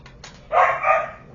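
A dog barks excitedly nearby: a couple of faint yips, then one loud drawn-out bark or howl-like yelp, with no talking.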